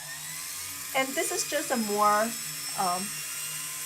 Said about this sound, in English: you can definitely use the radial brush to get in there.